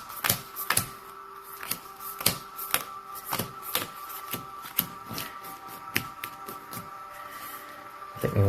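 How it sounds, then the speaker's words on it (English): Cards for the Slay the Spire board game are shuffled in a run of sharp riffling bursts and clicks spread across several seconds, close and clear with no talking. "we gotta get a nice shuffle here"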